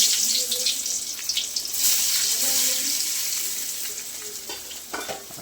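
Masala for Maggi noodles frying in a pan gives a steady bright sizzle with scraping stir strokes, fairly close and continuous, with a faint voice murmuring in the background.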